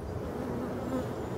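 Black honeybees buzz at a forest beehive as a honey super is fitted for spring, a steady dense droning hum at close range with no talk.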